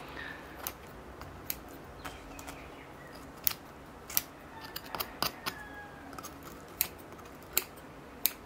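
Small scissors trimming a bonsai tree snip in sharp, irregular clicks, some quick doubles, over a quiet background hiss.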